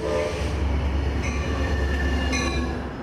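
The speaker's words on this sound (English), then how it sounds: "It's finally all aboard for the Sounder trains in Lakewood." A Sounder commuter train at Lakewood station in the early morning rumbles loudly and steadily, with thin metallic wheel squeals riding over the heavy low roll of the cars; no voices.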